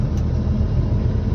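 A large vehicle rolls past on a rural road at dawn during the morning alms round, a steady close low rumble that holds for the whole moment with no talk over it.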